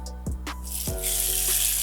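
A sudden hiss and sizzle as a salted back steak hits a hot pan, a few sharp clatters at first, then steady crackling frying.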